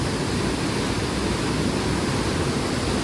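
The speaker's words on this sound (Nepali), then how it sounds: "खोलेकोवालामा यस्तो पानी फ्लो भइरहेको छ होइन।" Water rushes through an open gate of the Koshi barrage in Nepal, a steady, dense roar that fills the whole clip without a break.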